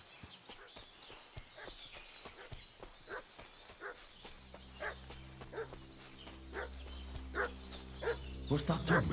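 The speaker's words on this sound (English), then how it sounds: "What's that dog making such a fuss about?" A dog barks repeatedly in Kingdom Come Deliverance 2, steady moderately distant woofs at a regular rhythm, joined later by a low droning music bed and a louder burst near the end.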